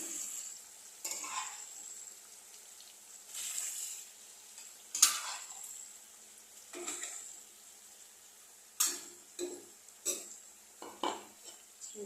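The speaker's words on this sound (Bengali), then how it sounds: "এখন এটার মধ্যে দিয়ে একটা একটা করে মাছ ছেড়ে দেবো।" Fish frying in a pan of mustard spices, a quiet steady sizzle punctuated by several sharp clinks and scrapes of a utensil against the pan.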